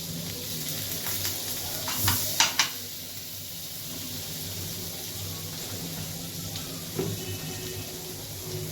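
Butter melts and sizzles in a pan as the start of a white sauce, a soft steady frying hiss with a couple of clinks and stirring sounds along the way.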